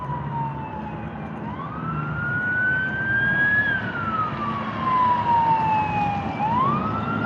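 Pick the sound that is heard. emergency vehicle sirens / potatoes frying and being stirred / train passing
emergency vehicle sirens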